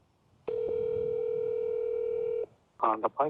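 Steady telephone dial tone, loud and continuous for about two seconds, as a call is placed to a Honda dealership about a spare key fob for a 2023 Honda Odyssey; it cuts off and a voice begins speaking right after.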